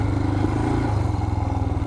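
A Royal Enfield Himalayan motorcycle on Mitas E-09 Dakar tyres rides through sand, its single-cylinder engine thumping loudly and steadily up close with a rough, pulsing drone and no talk.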